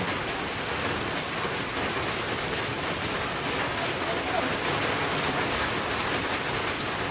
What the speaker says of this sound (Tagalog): Malakas talaga mga kadulag ang ulan